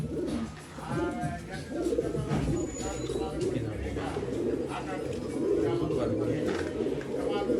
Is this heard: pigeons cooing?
yes